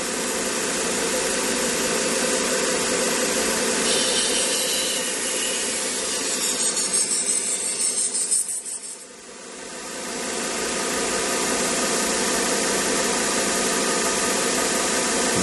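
A 1x30 belt sharpener grinds a knife edge with a continuous loud whirring hiss of belt and motor, which dips briefly about midway before rising back to full strength.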